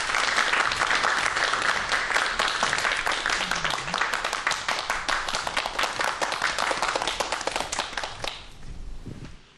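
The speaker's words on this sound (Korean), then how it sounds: "박수 부탁드릴게요" Audience applause welcoming Jeong Bong-hyun, a Korea Research Institute of Bioscience and Biotechnology director, onto a lecture stage: dense, loud clapping from a full hall that holds steady for most of the stretch, then thins out near the end.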